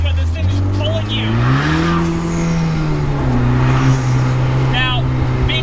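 A 2020 Vanderhall Carmel three-wheeler accelerating hard with torque steer, its engine note climbing and holding in a rising growl, close and loud, with a voice talking over it.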